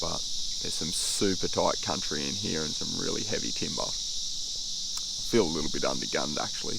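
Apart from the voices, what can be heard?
cicadas humming in a creek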